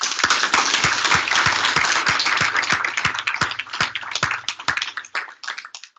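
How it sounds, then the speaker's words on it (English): An audience at a public meeting at Queen's University Belfast gives a round of applause, steady clapping that tapers off over several seconds with a few rhythmic claps standing out. "can I ask you all to give her a great round of applause"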